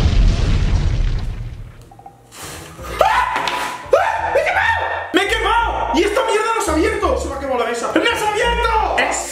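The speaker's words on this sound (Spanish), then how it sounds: "¿Habéis visto la explosión? Un resplandor y hace ¡pum!" Gunpowder packed inside a padlock goes off with a sharp boom, followed by people talking and reacting loudly in Spanish.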